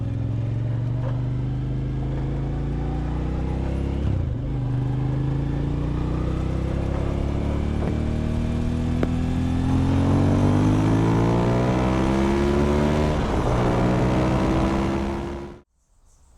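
A Suzuki TL1000R motorcycle being ridden, its engine drone steady and close, climbing gradually in pitch through repeated rises before cutting off abruptly at the end.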